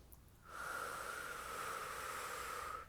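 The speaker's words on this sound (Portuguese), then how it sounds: "Então ela é bem controlada, ela é bem intencional mesmo, que é para poder acalmar" Deep, slow, controlled breathing done as a calming exercise at home: one long, steady, airy exhale or inhale with a hissing edge, close and quiet, with no talking.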